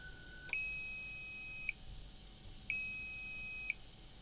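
A sous vide cooker sounds its done alarm, two sustained high electronic tones, each lasting about a second, separated by a short gap, loud and clear in a quiet room with no talking.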